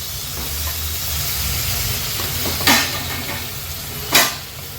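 Washed mutton frying in hot oil with turmeric and masala for mutton sukka, a steady sizzle and hiss with two sharp bursts as pieces hit the pan or are stirred.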